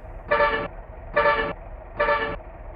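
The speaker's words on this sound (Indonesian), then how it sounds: "Untuk suara klakson yang di setirnya ini" Three quick, evenly spaced toots from the steering wheel horn of a bus in a Bus Simulator Indonesia mod, sharp and near, with a soft engine drone underneath.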